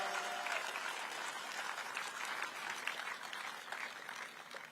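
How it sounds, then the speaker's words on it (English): An audience at a large public event applauds the AV team with steady, faint, distant clapping that holds evenly throughout. "Give a round of applause to the AV team"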